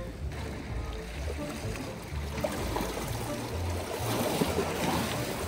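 Choppy waves and rushing water near Niagara, a steady close wash of surf that swells louder toward the end, with no clear talking.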